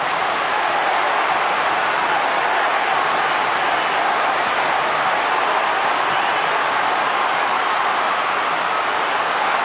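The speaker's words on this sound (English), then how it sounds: "And this crowd has come alive." Loud, dense roar of a football stadium crowd at a 1996 Richmond versus Sydney match, cheering steadily throughout with scattered claps and shouts rising above the broad wash of noise.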